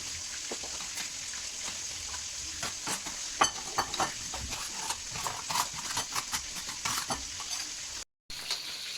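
Steady hiss of oil frying fish in a pan, with scattered pops and crackles and a few clinks of a utensil, close by.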